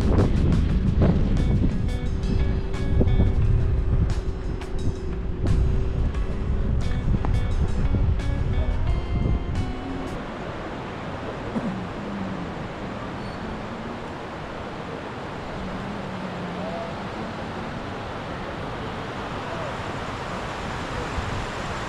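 Wind blows near Digha beach on an overcast dawn, buffeting the microphone in strong rumbling gusts for about ten seconds before easing into a softer, steady rushing.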